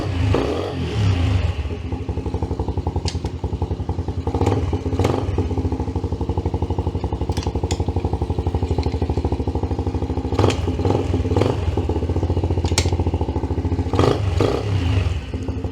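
A Polaris Sportsman 90 ATV engine idles steadily after starting, a small single-cylinder rattle with close, even pulsing and a few brief revs and clattering spikes, no talking.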